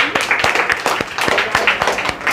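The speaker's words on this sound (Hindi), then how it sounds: "मैम के लिए एक बार आप लोग तालियां बजाइए।" Audience clapping for a teacher at an Independence Day celebration in a coaching institute, a short burst of scattered, uneven claps close by, fairly loud.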